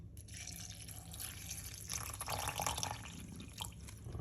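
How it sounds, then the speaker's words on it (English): Water pours into a glass for a salted weight-loss drink, a faint steady trickle and splash lasting a few seconds without any voices. "We're gonna put some water."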